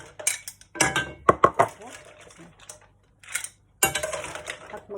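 Food served onto a plate in a home kitchen, with several sharp clinks of cutlery against dishes in uneven bursts, close and fairly loud, separated by short quiet gaps.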